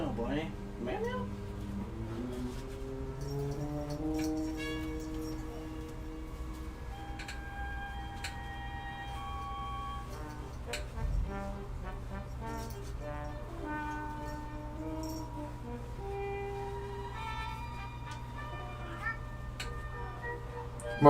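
A pet cat meows indoors in a string of drawn-out, rising and falling calls at close range, with a soft ticking in the background and a person talking to it.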